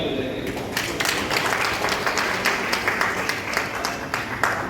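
An audience claps at a Hindi poetry gathering (kavi sammelan) in Malviya Nagar, Delhi. The steady applause runs for several seconds beneath a voice speaking.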